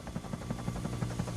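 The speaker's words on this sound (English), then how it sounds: "Then Harold the helicopter arrived." Harold the helicopter's rotor thumps in a steady, fast, even rhythm over a low engine drone, loud and close.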